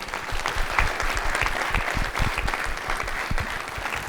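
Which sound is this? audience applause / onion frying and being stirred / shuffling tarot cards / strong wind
audience applause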